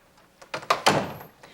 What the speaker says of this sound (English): Would you please close the door?